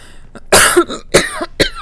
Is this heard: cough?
yes